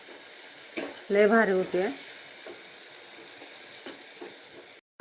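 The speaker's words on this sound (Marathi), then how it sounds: "त्या लागलाय मसाला असा चांगला परतून घेतलेला आहे." Masala and paneer sizzling and frying in a pan on a home stove, a steady crackling hiss with a short burst of louder sizzle and stirring scrapes, while a person speaks briefly.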